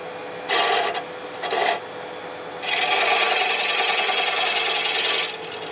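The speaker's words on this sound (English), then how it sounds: "Advance the cutter a little bit." A lathe cutter takes light cuts while turning a metal sphere: two short scraping rasps, then a longer, steady grinding cut of about three seconds, close and fairly loud.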